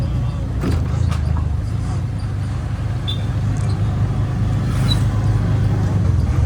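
An auto-rickshaw rides along with a low, steady engine rumble and road noise, with faint clicks and rattles above it and a voice talking at times over the drone.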